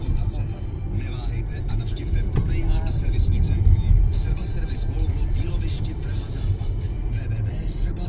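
An amphibious tour vehicle drives into the Vltava river in Prague, a low steady engine rumble with road and motor noise throughout while people talk over it.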